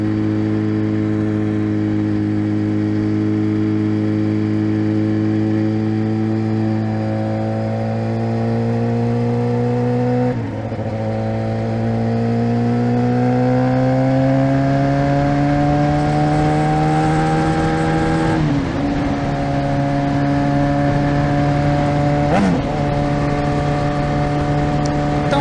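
Motorcycle engine running steadily while riding, a continuous mid-pitched drone whose pitch climbs gradually with brief dips at gear changes, heard close and alone throughout.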